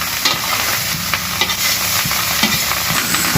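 Fried rice with chicken being stirred and tossed in a hot sizzling pan, with steady frying crackle under repeated scraping clicks of a spatula at an irregular rhythm, close and loud.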